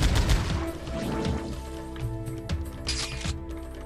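Rapid gunfire from the go-to weapon in Powerslave/Exhumed on console, a dense run of shots layered over a droning game soundtrack with a few heavier impacts near the end.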